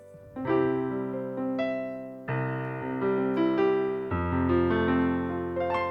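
Casio WK-6600 keyboard playing piano chords with the sustain pedal held, notes ringing long and blending into one another, close and clear with no voices.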